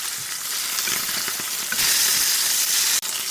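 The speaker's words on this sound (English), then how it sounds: "Turn them on the other side and fry them till they turn golden." Rohu fish pieces frying over a low flame in a pan give a steady, loud broadband sizzle that swells slightly partway through, with a brief dip near the end, and no voices.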